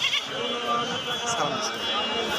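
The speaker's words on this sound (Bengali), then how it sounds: "ভাই এটা কি জাতের ছাগল" Goats bleating at a busy livestock market in Bangladesh where pregnant does and young bucks are sold, with the calls rising over steady crowd chatter and nearby voices.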